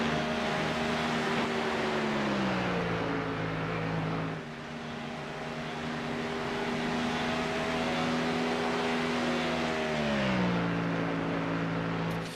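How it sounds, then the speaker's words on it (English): A Ford Mustang race car in a sim racing game at Spa roars with a loud, sustained engine drone, its pitch rising and falling smoothly through gear changes and throttle shifts, with no voices. "You can hear the Mustang kind of roar its engine"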